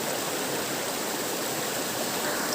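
Steady broadband rush of a waterfall and stream at Purikot Falls, a tourist swimming spot in Mambulo Nuevo, Libmanan, filling the whole stretch with continuous close water noise and no talk.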